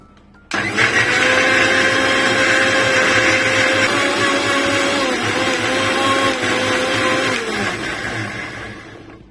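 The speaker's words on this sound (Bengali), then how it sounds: "ব্ল্যান্ডারে মুখটা বন্ধ করে ব্ল্যান্ড করে নিয়ে আসছি" A kitchen blender whirs steadily on cucumber, mint leaves and water, starting abruptly and running loud and close with a constant motor hum and slight pitch dips for several seconds before easing off.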